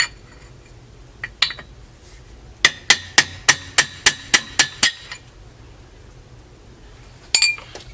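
Sharp metallic hammer strikes on a Suzuki TC 185 dirt bike part: two isolated taps, then a rapid even run of about nine ringing blows, and a final cluster near the end, close and clear with no talk.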